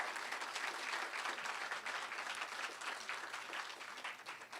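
Audience applause for the jazz band at a morning civic gathering, a steady, dense clapping from a sizable crowd that holds evenly for several seconds with no voices over it.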